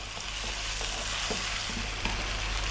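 Steady, loud sizzling and crackling of chicken frying in hot oil in a pan, with occasional stirring scrapes, no voices.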